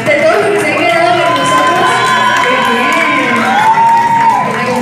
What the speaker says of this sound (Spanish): Muy bien, gracias Gisela, un aplauso para ti.